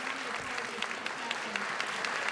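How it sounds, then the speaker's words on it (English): Audience applause at the Town of Hempstead 2024 "Make a Difference" awards ceremony, a soft, steady patter of clapping lasting a couple of seconds, distant and fairly quiet. "Let's have a round of applause for Steve Chasman."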